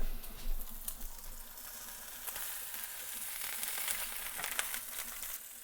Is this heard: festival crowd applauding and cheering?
no